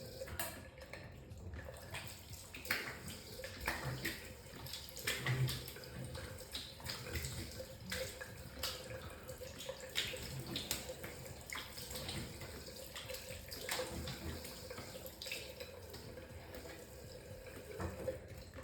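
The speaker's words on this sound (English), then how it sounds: "Let me just rinse and then we'll do the second pass." A tap runs in a bathroom sink for rinsing during a straight razor shave, a faint continuous splashing with small clatters and shifts in the flow, no voices over it.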